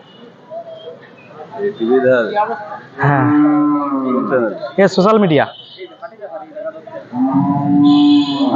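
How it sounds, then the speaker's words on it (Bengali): Cattle moo loudly and repeatedly at a busy cow market in Bangladesh, long close bellows rising over crowd chatter and people talking nearby. "দেখতে পাচ্ছেন গরুটি আসলে বড় গরু"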